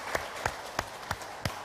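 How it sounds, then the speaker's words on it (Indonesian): Five sharp, evenly spaced claps ring out in a slow unison rhythm as a seated senior congregation applauds at an indoor church gathering, fairly faint and heard alone. "Tepuk tangan untuk kita semua."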